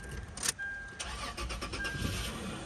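A 2004 Toyota 4Runner SR5 with a 4.0 V6 and over 200K miles cranks briefly with a sharp starter whir, catches and settles into a steady idle, heard close by.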